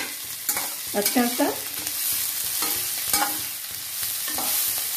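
Chickpeas stirred and roasted in a pan, with steady frying sizzle and scraping stir strokes throughout, close up, and a brief word of speech.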